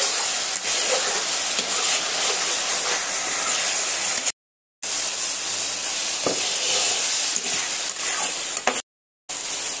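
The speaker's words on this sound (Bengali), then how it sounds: "আদা রসুনটা দিয়ে ভালো করে কষাতে হবে" Ginger garlic paste sizzling in hot oil while sautéed for veg biryani, a steady close hiss and crackle of frying with two short silent gaps and no talk.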